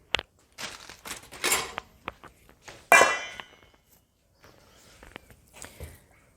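Fresh ginger grated coarsely by hand in a home kitchen while making a pineapple and courgette lacto-fermented chutney, heard as a series of short, close scraping and knocking bursts separated by quiet gaps.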